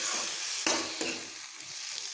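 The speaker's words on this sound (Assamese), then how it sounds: "এতিয়া মই এই চব্জিখিনি লৰাই দিম ভালদৰে" Homegrown tomatoes frying in a pan are stirred with a utensil, giving soft sizzling plus a couple of distinct scraping strokes against the pan, close and fairly quiet, with no voices.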